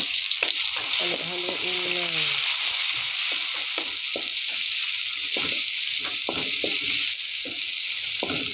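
Onion and garlic frying in a pan give a loud, dense, steady sizzle, with intermittent scraping and clacking of a utensil stirring, close up; a brief voice-like tone appears early.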